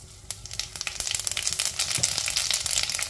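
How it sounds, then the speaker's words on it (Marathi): Cumin seeds crackle and sizzle in hot oil in a kadhai, a dense, steady spatter of small pops building slightly in intensity. "त्यामध्ये मी जिरे टाकतेय."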